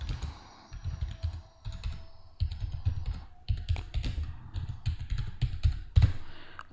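Steady typing on a computer keyboard while entering a loan amortization schedule into an Excel spreadsheet, with quick bursts of close, crisp key taps and brief pauses between them.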